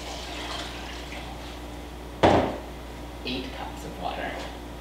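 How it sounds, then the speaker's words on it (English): Water splashes into a soup pot already holding vegetables and canned corn, a short, sharp pour in the middle followed by quieter trickles and drips. "And then I'm gonna add 4 cups of water."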